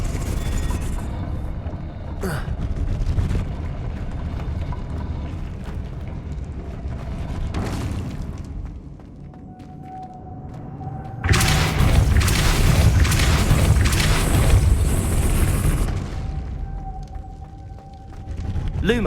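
Magical blasts from the Depulso spell in the Hogwarts Legacy video game, heavy booming bursts with rumbling low-end, one sharp hit early and a louder extended blast later, over game ambience and background music.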